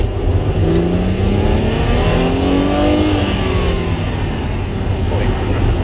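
A Mercedes-Benz SLK350 roadster accelerates, its engine building steadily with rising harmonic sweeps across the whole clip, loud and close throughout, with no pauses.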